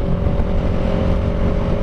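A Yamaha R3 sport motorcycle is being ridden, its exhaust a loud, close, steady droning hum with a constant pitch. Heavy wind rush runs beneath it, and no one speaks.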